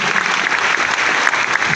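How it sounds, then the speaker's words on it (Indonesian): A church congregation at a testimony service claps loudly and continuously in praise of Jesus, a dense, steady roar of many hands filling the room without talk. "Kasih tepuk tangan yang paling mulia buat Tuhan Yesus"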